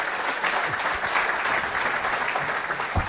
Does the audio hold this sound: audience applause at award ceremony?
yes